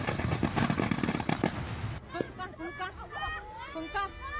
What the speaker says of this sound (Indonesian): tiba-tiba petasan berbagai ukuran meledak